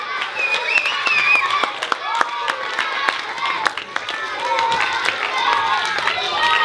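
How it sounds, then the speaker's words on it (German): An audience at a children's concert in a cinema bursts into lively applause, many hands clapping sharply and continuously while children's voices chatter and cheer over it. "Applaus für Julius"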